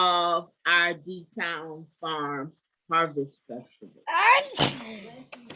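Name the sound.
sneeze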